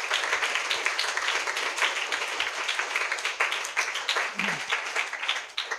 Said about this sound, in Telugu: మరి అసలు చప్పట్లు కొట్టి